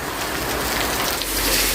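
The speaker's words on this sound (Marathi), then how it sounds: "अजून पण पाऊस भरपूर आहे" Heavy rain pours steadily as a dense, even hiss filling the whole clip, loud and close with no other sounds.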